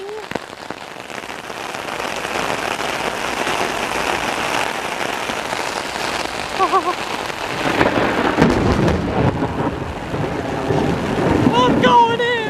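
Heavy rain pours down steadily with rolling thunder during a storm outdoors on a school day, a dense, loud wash. Rumbles build toward the end, and faint voices come through under the downpour.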